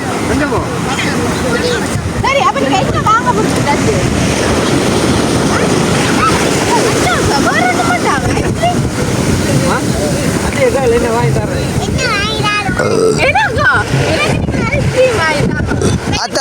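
Gusting wind buffets the microphone over crashing sea waves, a loud continuous roar, while people talk throughout.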